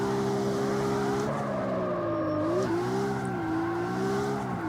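A Toyota Supra drifts in the CarX Street racing game, its engine holding a steady, loud note that dips and rises as the throttle is worked through the slide. No one speaks.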